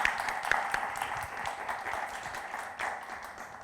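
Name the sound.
audience applause in the room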